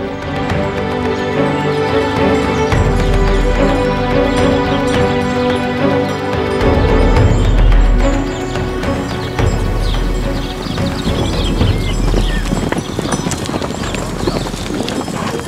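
Hooves of a herd of more than 50 young purebred Lipizzaner stallions clip-clop across a field at the Piber stud in Austria, a busy running patter mixed with music.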